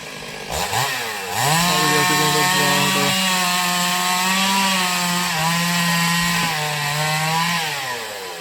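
A chainsaw cuts down trees, its engine revving up sharply and then holding a loud, steady, droning whine close by for several seconds before easing off at the end.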